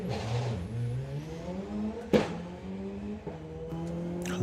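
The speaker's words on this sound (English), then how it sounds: "Loving the noise this car makes." A doorslammer drag racing car at a 2024 event roars close and loud, its engine note climbing steadily over several seconds with a couple of sharp clicks and bangs along the way.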